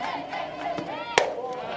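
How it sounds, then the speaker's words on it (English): Softball teammates cheer and shout from the home dugout along the third base side at a state quarterfinal game, a short burst of crowd voices in an outdoor ballpark with one sharp crack of sound. "Getting a good cheer from her teammates down that third base side in the home dugout for Norwalk."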